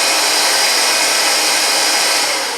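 Vax Air Cordless Duo upright vacuum cleaner running on boost mode, a loud, steady, close-up whooshing motor roar with an even airy hiss that holds constant and eases slightly at the end, no voices.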